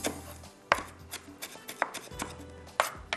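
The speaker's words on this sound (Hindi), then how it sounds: "ये देखिए बिल्कुल बारीक बारीक इसको चॉप करेंगे।" A knife finely chopping an ingredient for Hyderabadi kadhi: close, crisp blade strikes on a board in uneven bursts with short pauses between runs, and no voices.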